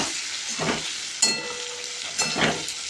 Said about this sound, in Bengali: ডিমগুলো লাল লাল করে ভাজা হয়ে গেলে আমি এখানে আলুগুলো ভেজে নেব।